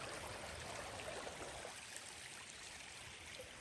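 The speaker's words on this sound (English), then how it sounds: "There's water coming here, there's water coming here," Spring water from a creek rushes and streams steadily through trees in a natural park, a continuous broadband flow with no breaks and no voices.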